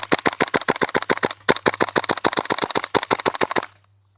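A KWA Tac-9 airsoft gun fires a fast string of about thirty sharp, loud, evenly spaced clacks, closely recorded, then stops abruptly into silence.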